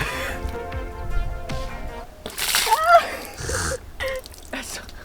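Freshwater from a well splashes during an outdoor shower on a reef island, a few brief irregular splashes and pours mixed with gasps and talking voices.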